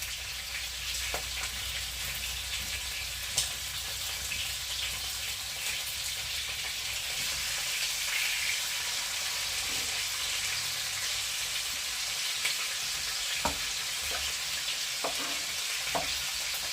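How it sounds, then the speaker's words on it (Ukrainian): Meat sears in a pan for a simple Ukrainian Christmas dish, a continuous bright sizzle close by with occasional faint clicks of a utensil. "М'ясо обов'язково підсмажувати з усіх сторін і не відривати."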